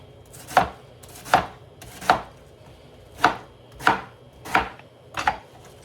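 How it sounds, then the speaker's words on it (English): A knife chops roughly through cabbage on a board for chunky pickles, seven crisp, evenly spaced thuds close by with no talking. "And now we're just gonna kind of roughly cut it."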